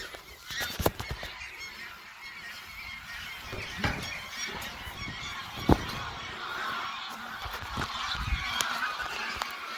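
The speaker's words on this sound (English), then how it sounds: "It's a lot of geese." Many geese honk continuously from a moderate distance, overlapping calls forming a busy, steady chorus with occasional louder squawks.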